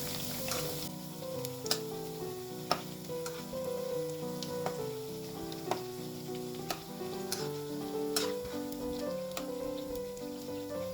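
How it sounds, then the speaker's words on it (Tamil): Bread pieces fry in hot oil in a pan until brown for a sweet bread halwa, a soft steady sizzle with occasional crackles and pops, quiet and continuous, with faint kitchen tones in the background. "இது ப்ரௌனாக இருக்கிற வரைக்கும் நம்ம வறுத்து எடுத்துக்கலாம்."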